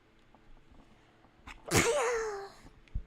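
One close, sharp human sneeze with a squeaky, high-pitched tail, rising out of quiet game background sounds, with a soft click just afterward.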